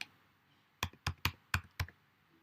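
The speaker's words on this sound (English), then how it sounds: "I'll just type it in." Five quick keystrokes on a computer keyboard, close and crisp, tapped in an uneven burst after a brief quiet pause, with nothing else heard.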